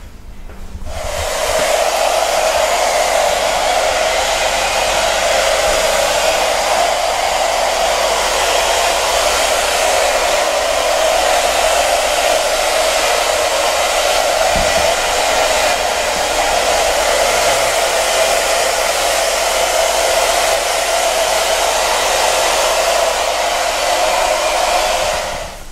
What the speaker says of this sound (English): Gonna move to drying the hair.